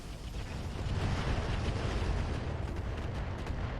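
Weapons and missiles fire in a RogueTech mech battle, a dense rumbling roar of overlapping blasts and launches that swells and holds at a moderate level with no voices.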